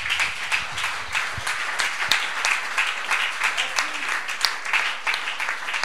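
An audience claps at a gathering, a scattered, uneven patter of hands with sharper individual claps standing out, heard close and fairly loud throughout.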